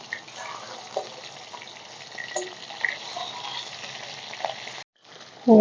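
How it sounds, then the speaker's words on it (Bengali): Fish fries in smoking-hot mustard oil in a wok, a soft, steady sizzle with small crackles that drops out briefly near the end, close by and free of talk. "তেল ভালো করে গরম হয়ে গেছে তেল দিয়ে ধোয়া উঠছে মাছগুলো ভেজে নেবো"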